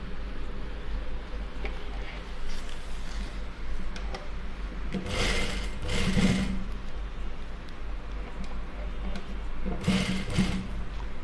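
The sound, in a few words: sewing machine stitching a neck seam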